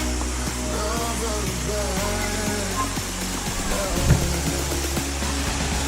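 Waterfall at Kitekite, a continuous rushing wash of falling water heard close and steady throughout, with faint distant voices and small knocks mixed in.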